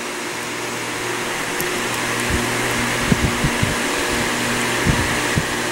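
Steady, close whooshing drone of an electric fan blowing air during a wax test on a pistol, with a few faint clicks and knocks over the constant hum.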